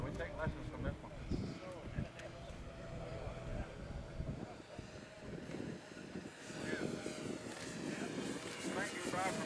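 A 1800mm OV-10 Bronco radio-controlled model plane flies overhead, its twin propeller drone steady and moderately distant, while people talk over it throughout.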